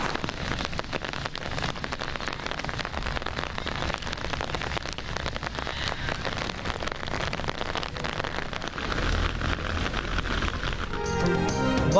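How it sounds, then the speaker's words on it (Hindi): Steady heavy rain falling in Karachi, a dense continuous hiss of drops on surfaces throughout, close and fairly loud, with no voices and a brief change in texture near the end. "पानी से भरे बादल बरसे तो गर्मी का जोर टूट गया।"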